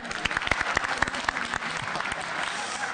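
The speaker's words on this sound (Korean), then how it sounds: "박수!" An audience at a CEO breakfast lecture breaks into a short burst of lively clapping from many hands, filling the room at close range.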